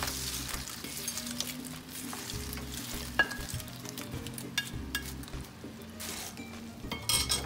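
Salsa roja heats in a frying pan as tortilla chips go in for chilaquiles, giving a steady close sizzle with stirring scrapes and occasional clinks of utensil against the pan.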